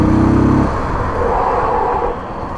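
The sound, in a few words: 1993 Honda XL 185s motorcycle on a test ride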